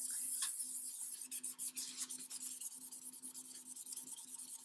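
Close, soft rubbing strokes over sticker residue on a book cover, a steady brushing friction repeated in quick back-and-forth passes, with no one speaking.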